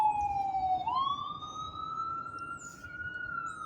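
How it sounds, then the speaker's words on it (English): An emergency vehicle siren, likely a fire engine, wails steadily outdoors, its rising and falling tone carrying clearly over a constant low rumble of background noise with no talking. "Do you hear the siren, okay? It's another fire."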